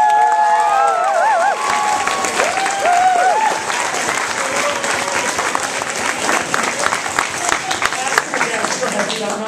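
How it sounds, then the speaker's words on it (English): A banquet show audience gives a full round of applause, loud at first and then tapering, while voices call and chatter faintly beneath it. "round of applause, please."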